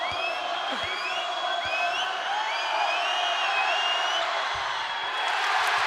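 A college basketball arena crowd at Montana State versus Utah State keeps up a steady din of cheering, with shrill whistles and whoops cutting through and occasional sharp thumps below.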